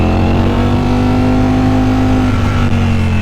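A Ducati Streetfighter V4S motorcycle engine pulls hard under throttle in third gear, a loud, sustained close-up roar with steady droning tones and no talk.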